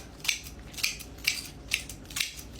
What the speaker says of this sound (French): Je vais surtout recouper mes roses. Donc toujours en biseau.